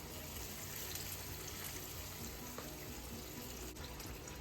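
Cream pouring into vodka sauce for penne alla vodka, a steady liquid stream running with no break and no talk.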